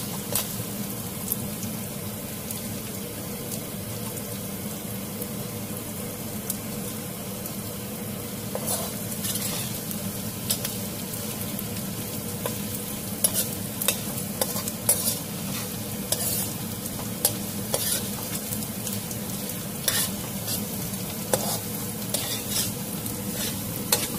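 Ginger and garlic stir-fry in hot oil for a paneer dish, giving a continuous close sizzle and crackle with scattered pops and the scrape of stirring throughout, and no talk.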